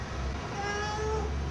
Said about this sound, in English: Cat, get out of here.